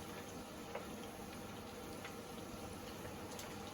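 Potato gems frying in oil that is not too hot give a faint, steady sizzling hiss with a few tiny pops, quiet and continuous throughout.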